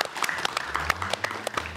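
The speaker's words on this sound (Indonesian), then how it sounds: "sekali lagi tepuk tangan yang luar biasa untuk mereka yang sudah membuka acara ini" Brief burst of studio audience applause at a TV talk show, a bright, even patter of many hands clapping close together for a couple of seconds.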